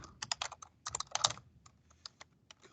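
Fingers type on a computer keyboard in short clustered bursts of crisp clicks, then sparser keystrokes trail off; close and moderately loud, with no talking.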